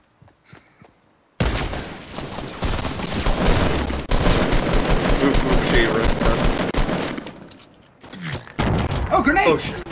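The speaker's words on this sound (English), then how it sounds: "I hear gunshots." Rapid bursts of automatic gunfire in Fortnite Battle Royale rattle loudly and continuously, with brief pauses, while voices talk excitedly in between.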